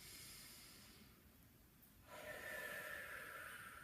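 Slow, deep nasal inhale followed by an exhale during diaphragm breathing exercise, soft and close, with a gentle hissing airflow that swells toward the end.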